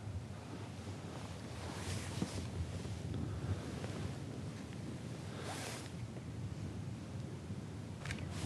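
Wind buffeting a microphone outdoors while a fishing rod is cast into it, a steady low roar and rustle throughout with occasional gusts, no voice.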